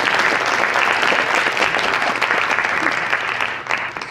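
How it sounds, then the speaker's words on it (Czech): An audience applauds steadily in a hall to welcome an astronomy lecturer and photographer onto the stage before a talk on the Chilean night sky. The dense clapping stays loud and continuous and tapers slightly at the end. "takže ho tady můžete přivítat potleskem"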